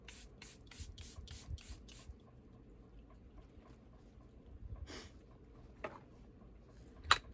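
Makeup setting spray misted onto a face in a quick series of about six short, hissing pumps, close and crisp, followed by quiet and a few later isolated sprays.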